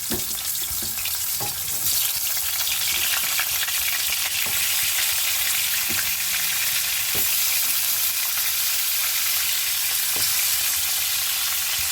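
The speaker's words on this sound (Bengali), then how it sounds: "তেলটা দিয়ে এখানে আগে মাছের মাথাটা ভেজে নেব।" Fish heads frying in hot oil in a preheated frying pan, giving a steady loud sizzle throughout with occasional sharper crackles and pops, no voices.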